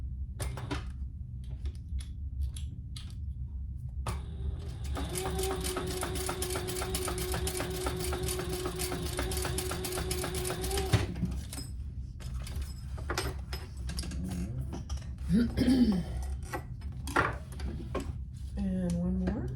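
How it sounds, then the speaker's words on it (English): A sewing machine stitches straight seams on a laptop bag, running in one fast, steady, even-rhythmed burst of about six seconds. Quieter handling clicks and shuffling come before and after the run. "let's put this on and just do a couple straight seams"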